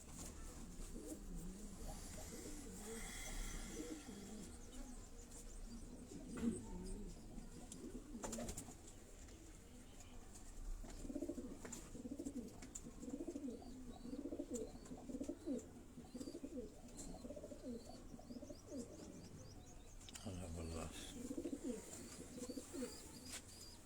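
Several large fancy pigeons coo in a steady, overlapping low rumble close by, the rolling calls repeating throughout with a few faint chirps mixed in.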